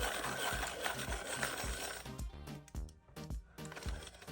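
An adjustable pencil sharpener grinds down a pencil with a dense, steady whirring rasp that then breaks into rhythmic pulsing bursts of shaving as the point forms, close and fairly quiet.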